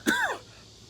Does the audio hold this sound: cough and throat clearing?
yes